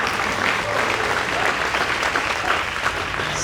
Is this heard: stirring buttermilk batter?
no